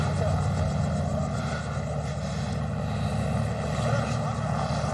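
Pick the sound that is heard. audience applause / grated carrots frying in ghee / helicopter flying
helicopter flying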